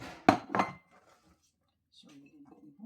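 A plate being washed while preparing fish paksiw, giving two loud clinks of dishes near the start, then quiet with soft rattling and a little background talk toward the end.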